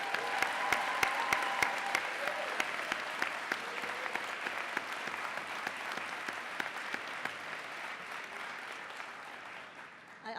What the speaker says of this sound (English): we have one more round of applause, please, for our nursing candidates?